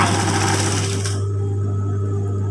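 Sewing machine stitching close to the edge of a fabric, a steady dense mechanical whir with a strong low hum running throughout, brighter and busier for the first second before settling into a quieter drone.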